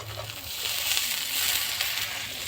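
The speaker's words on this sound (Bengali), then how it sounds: "এবার দিয়ে দেবো কাঁচা লঙ্কা চেরা আর দিয়ে দেবো মটরশুঁটি" Slit green chillies and peas drop into potatoes frying with spices for a cabbage and fish-head dish, giving a close, crackling sizzle with a few brief bursts over a soft steady hiss.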